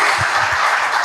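Brief burst of audience clapping at a talent and future tech summit workshop, loud and dense, with a few low thumps near the start.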